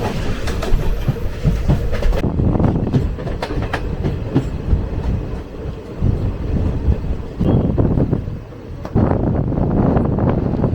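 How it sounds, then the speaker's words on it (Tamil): Two trains pass each other near Podanur Junction, rumbling with a steady clickety-clack of wheels on rails and buffeting wind noise, loud and close throughout. "ரெண்டு ட்ரெயின் கிராஸ் ஆகுங்க."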